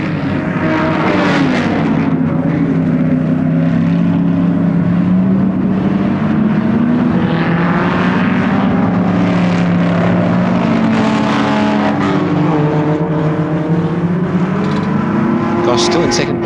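Ford Escort touring cars race at Warwick Farm in round 2 of the 1973 South Pacific Touring Car Series. Several engines drone loudly and continuously, their pitch rising and falling as they pass, under constant commentary.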